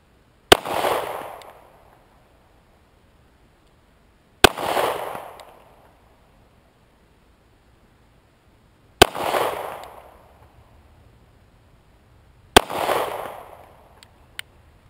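Four loud pistol shots from a Staccato P handgun at a range, each a sharp crack with a short ringing decay, spaced about four seconds apart with quiet between.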